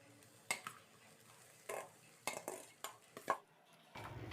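Cooked rice is added to a pan of lemon seasoning, giving a handful of scattered clinks and scrapes of a utensil against the pan, faint and with no talking.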